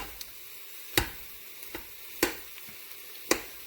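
Mushrooms cooking down in an Instant Pot for risotto give a soft, low sizzle broken by several sharp, evenly spaced clicks and taps of a utensil against the pot.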